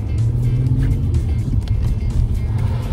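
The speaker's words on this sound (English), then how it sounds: "Look at all that bloody traffic." Car driving slowly in heavy traffic on the M40 motorway, a steady close engine and tyre drone with road rumble, continuous throughout with no talk.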